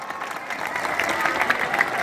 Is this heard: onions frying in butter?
no